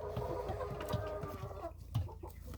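A broody hen clucks close by in a coop, a rapid run of low, throaty clucks and grumbles over a couple of seconds, quiet and alone without talk.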